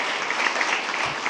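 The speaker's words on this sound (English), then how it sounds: "let's have one more round of applause for our Employees of the Month" Applause from the audience at a school board meeting honoring Employees of the Month: a dense, steady wash of many hands clapping, moderately loud and continuous, with no voices over it.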